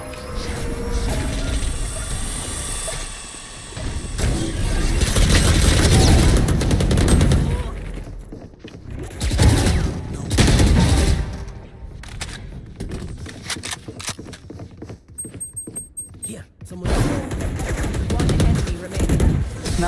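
Gunfire in the tactical shooter Valorant during a ranked match, with bursts of rapid shots and loud single cracks recurring through the clip, alongside other game sounds and occasional talk.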